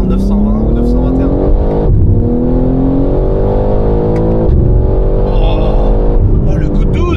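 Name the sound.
BMW car with about 920 horsepower accelerating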